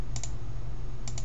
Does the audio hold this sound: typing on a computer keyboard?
yes